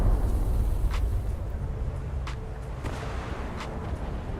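A torpedo strikes a ship in the naval battles of War Thunder, a deep rumbling explosion rolling under a low continuous roar, with a few fainter distant booms following.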